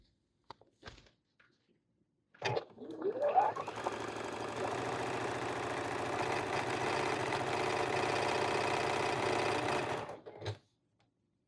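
Sewing machine stitching quilt top sections together, a few faint clicks, then a steady rapid mechanical whir and chatter for about eight seconds that stops abruptly, close and alone.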